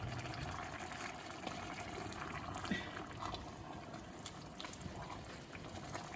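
Water is poured into a pot for cooking rice with pigeon peas, making a steady, soft gushing and filling sound that runs without a break and stays fairly faint.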